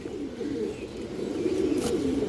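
Pet pigeons, a breeding pair, coo in low rolling murmurs that overlap continuously close by, with a brief sharper noise near the end and no speech.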